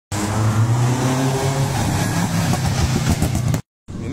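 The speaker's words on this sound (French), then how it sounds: "tu as des voitures de rallye. Donc il y a encore une." A rally car at a rally in Braine-le-Comte, Haute Senne, its engine a loud, close, steady roar sustained for several seconds before cutting off abruptly, with brief quiet after.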